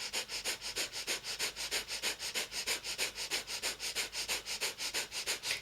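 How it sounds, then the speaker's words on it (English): Rapid, rhythmic breath of fire from kundalini yoga: quick, even panting breaths pushed through the nose, about four per second, close and steady for the whole stretch with no talking. "a very light, quick breath of fire. This is our panting breath through the nose"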